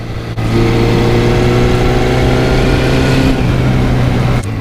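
A four-cylinder 1980 Kawasaki KZ550 LTD motorcycle engine runs steadily at a loud, close idle with a smooth, even hum, briefly dipping at the start and cutting off near the end.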